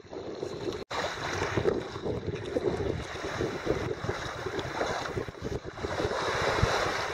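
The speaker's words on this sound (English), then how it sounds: "this morning we finally found some wind" Steady wind and rushing waves at sea aboard a sailing boat, a continuous broadband roar with gusty buffeting on the microphone and no voices.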